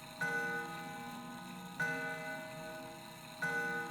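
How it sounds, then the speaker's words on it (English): A clock ticks in the horror video game Spirit Hunter: Death Mark, three sharp resonant ticks evenly spaced about a second and a half apart, each ringing out before the next, with no talk. "Looking up, I spy the outline of a clock. I bet that's what's making the sound."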